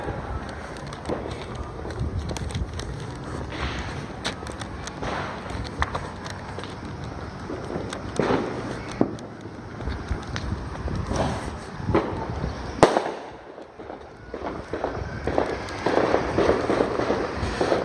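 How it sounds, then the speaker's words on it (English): Fourth of July fireworks and firecrackers going off all over a neighborhood, with constant overlapping pops, bangs and crackles, near and far, and footsteps on a walk home. "There's fireworks going off everywhere."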